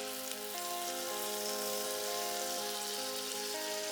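Chopped tomato hits a hot pot crusted with stuck, dark-browned onion and sizzles steadily while deglazing, a close, continuous hiss with a faint tonal hum beneath it and no speech.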